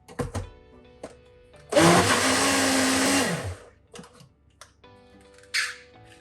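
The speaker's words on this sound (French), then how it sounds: "Je vais remettre un petit coup de blender par rapport à l'huile d'olive que je viens de rajouter" A kitchen blender whirs loudly for about a second and a half, mixing a Passover recipe after olive oil has been added, then cuts off, with small clicks and handling knocks before and after.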